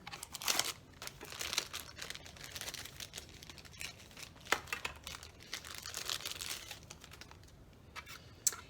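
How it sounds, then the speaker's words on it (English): A new cartridge being fitted into a sticker machine, close-up handling with plastic crinkles, small clicks and rustling taps scattered through, quiet and without speech. "I'm going to take my sticker machine, and I have to put my new sticker cartridge in here"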